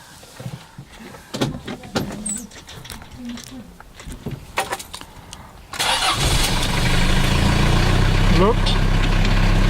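After some clicks and brief talk, a Mahindra Rocsta R2 diesel engine cranks and starts, then settles into a steady, loud idle around 1000 RPM.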